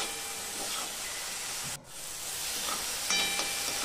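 Chopped onion sizzling in a pan with a little salt while being sautéed for pav bhaji, a steady close frying hiss with a brief dip midway and a small stir near the end.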